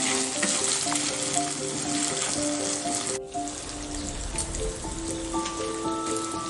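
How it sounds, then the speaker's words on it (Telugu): Chunks of colocasia (chamagadda) fry gently in oil over a low flame, giving a dense, even crackling sizzle, like rain on a surface, that carries on without a break and close by. "ఇదో ఇలానే సిమ్లో పెట్టుకొని ఫ్రై చేసుకోవాలండి."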